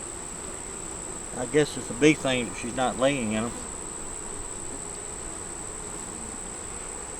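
Honeybees hum steadily around an open hive box during a frame inspection, a soft continuous drone beneath someone talking nearby.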